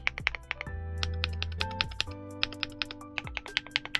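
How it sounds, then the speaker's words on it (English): Rapid typing on a KiiBOOM Loop65 mechanical keyboard with linear switches, a quick run of crisp, smooth keystrokes close up, with a low sustained tone underneath. "But these are linear switches. They have beautiful sound."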